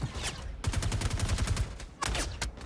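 An enemy's rapid automatic gunfire in Star Citizen during an outlaw incursion mission at a distribution center: a fast burst of regular shots, then a couple of louder single cracks near the end.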